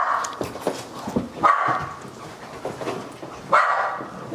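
A dog barks twice, a few seconds apart, at moderate distance in a dark, reverberant old hotel interior, with rustling and faint movement between the barks.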